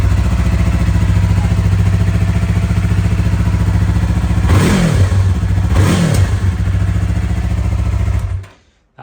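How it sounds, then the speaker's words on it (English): A motorcycle engine idles loud and close with a steady throb, revving sharply twice before cutting off abruptly. "let's start the engine"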